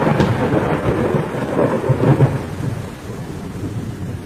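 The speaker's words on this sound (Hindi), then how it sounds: "ये अचानक इतनी तेज बारिश कहाँ से आ गई?" Sudden heavy rain pours down steadily in a cartoon, a dense hiss with a low rumble of thunder rolling underneath, loud and continuous throughout with no voices.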